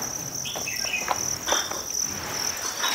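Live farmed crickets held for sale in Quảng Bình chirp in a dense, steady, continuous high-pitched trill, fairly loud and close, with no voices.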